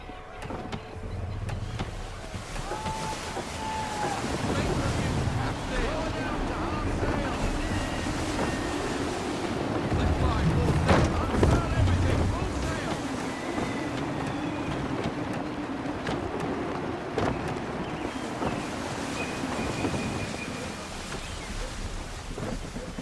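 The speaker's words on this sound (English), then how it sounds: "Gusty winds can be difficult to manage." Gusty wind and rushing sea around a sailing ship in Assassin's Creed 3, a steady roar of wind and waves with creaking and splashes, continuous and fairly loud.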